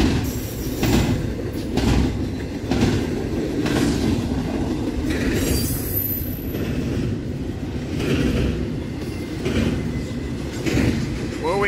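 A freight train rolls steadily past at a rail junction near Attica on Norfolk Southern, CSX and Wheeling & Lake Erie lines, with a loud continuous rumble, rhythmic clickety-clack of wheels over joints and brief squeals throughout.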